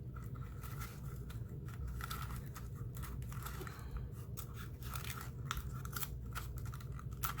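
Scissors snipping through washi tape while making a DIY phone holder, a series of quiet, close crisp cuts in an otherwise hushed room.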